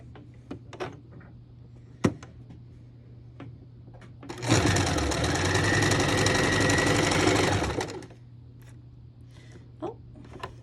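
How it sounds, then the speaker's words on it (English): A sewing machine stitches fabric squares in one steady, loud burst of about three and a half seconds, set between quiet handling clicks and taps before and after. "next we'll sew this one and this one and sew down that edge"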